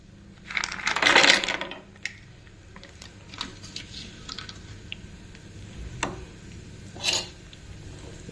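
Cashew nuts dropped into a serving bowl of oats payasam, a loud clattering spill near the start followed by a few scattered small clicks and taps, no talking.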